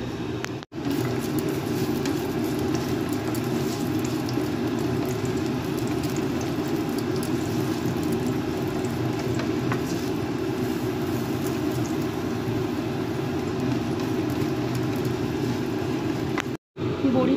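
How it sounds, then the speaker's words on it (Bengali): Bori, sun-dried lentil dumplings, frying in hot oil in a pan, giving a steady, dense sizzle that runs nearly unbroken for the whole stretch, with two brief cutouts near the start and end. "আমি একটু বড়ি ভেজে নিচ্ছি, একবারে একটু বেশি করেই বড়ি ভেজে রাখছি"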